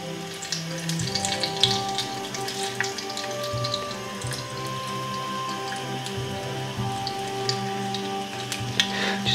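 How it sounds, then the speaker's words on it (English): Pop-up carp bait fries in hot chili oil with a steady, crackling sizzle full of scattered pops and spits. A faint tonal hum runs underneath, and there is no talk. "have your heat high enough to fry it but not burning it"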